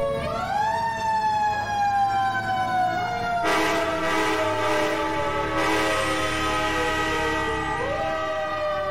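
Manual mechanical siren on FDNY Rescue 2 fire truck during a Brooklyn building collapse response, winding up and wailing continuously with rising and falling pitch, moderately loud amid street noise.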